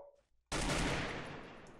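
A gunshot in the mobile shooter Free Fire, a single loud, sudden blast after a brief quiet moment, followed by a long, rumbling echo tail that fades gradually.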